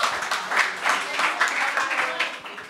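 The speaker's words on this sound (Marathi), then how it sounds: "टाळ्या भाई मित्रासाठी" Audience clapping for a Marathi rapper at a comedy show, steady applause that rises and falls in waves, with some voices mixed in.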